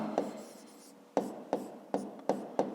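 A pen scratches on paper in short, separate strokes, a soft rub followed by five crisp, evenly spaced marks, close and quiet.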